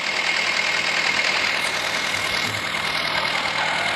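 Tractor engine from a New Holland 3232 tractor video game, a steady, loud, droning engine rumble that holds evenly throughout with no speech.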